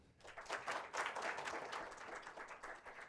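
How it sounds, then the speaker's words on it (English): An audience claps at a panel discussion during an industry skills conclave, a quiet, dense, sustained round of applause that swells at the start and fades slightly toward the end, with no voices over it. "We'll start with a huge round of applause, guys."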